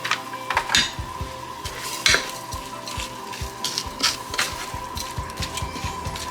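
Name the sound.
meat cooking in a pan with onion soup mix added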